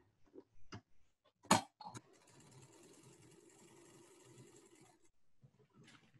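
Sewing machine stitching a fabric face mask, a quiet steady mechanical whir lasting about three seconds, framed by soft handling clicks and taps of fabric and tools before and after.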